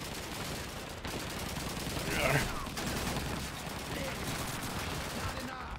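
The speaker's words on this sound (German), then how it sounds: "Woher kommen denn die Schüsse jetzt noch?" Distant bursts of gunfire in the World War II shooter Call of Duty 2 during a hill assault, faint popping shots under dense battlefield noise and rumble.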